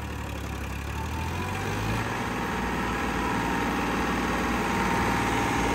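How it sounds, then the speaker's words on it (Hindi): Tractor engine running under heavy load while pulling a stuck tractor free, a steady loud low rumble that grows slightly stronger over several seconds, with no talk. "ये देखिए अब कैसे ट्रैक्टर को निकाल के दिखाता है"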